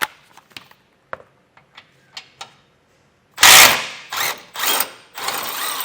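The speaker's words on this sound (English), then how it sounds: "So there's 2 bolts, this one here, and pull out with a 21mm socket." A ratchet on a 21mm socket backs out a long bolt during a base plate install on a 2024 Ram 1500: sparse ticking clicks at first, then louder sustained ratcheting bursts close by.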